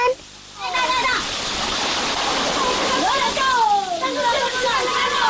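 A waterfall on Samosir Island in Lake Toba, during the dry season, gives off a steady broadband rush of falling water with a few overlaid tonal calls, while a person speaks over it.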